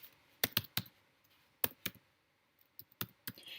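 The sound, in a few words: typing on a computer keyboard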